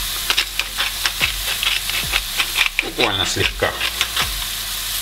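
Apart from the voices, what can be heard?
mushrooms frying in a pan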